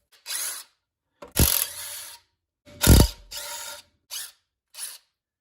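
A ratchet works screws loose from the front seal cover of a Triumph Spitfire, several short close bursts of rapid clicking separated by pauses, two of them heavier with a clunk.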